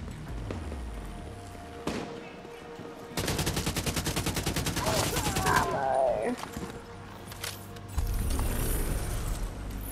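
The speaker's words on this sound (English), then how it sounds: "The fucking minigun's loud, right?" Minigun fire in the video game The Division 2 blasts as a long, rapid, loud burst in the middle, with further gunfire and game effects around it while someone talks.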